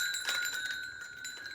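Small metal bells taken from a thrifted wind chime jingle briefly as they are handled, giving a bright, ringing clink that fades quickly, quiet and close.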